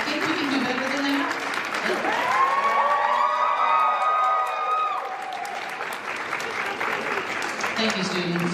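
Audience at a university school of nursing convocation ceremony breaks into sustained, dense applause with cheers and whoops rising over it, filling a large hall for the whole stretch before easing slightly toward the end.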